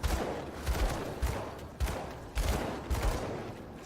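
Repeated gunfire from firearms in the action role-playing video game Grim Dawn, with several loud, sharp bursts firing in an uneven rhythm close up and no speech over them.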